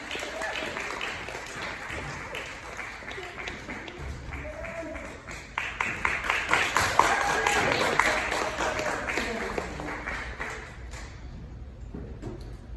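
An audience at a live music club claps steadily and continuously, a dense wash of many hands that swells louder midway with scattered cheers, while a host's voice is faintly heard.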